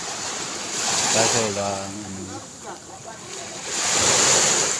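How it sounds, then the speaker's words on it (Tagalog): Surf washing onto a simple beach shoreline, a steady broadband wash that swells louder at the start and end, with someone talking over the middle stretch. "Itong dagat namin mga guys."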